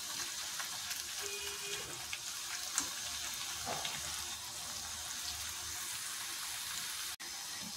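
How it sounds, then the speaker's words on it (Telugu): Banana chips frying in oil over a medium flame, a steady, even hiss of sizzling oil heard close up with a few faint clicks. "ఇది కొంచెం మీడియం ఫ్లేమ్లోనే వేపుకోవాలండి. క్రిస్పీగా అయ్యేదాకా మనం వేపుకోవాలి ఇట్లని."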